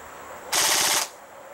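Full-auto burst from a short-barrel rifle: a single loud, close string of rapid shots lasting about half a second, roughly six or seven reports fused into one rattling burst, with quiet outdoor background before and after.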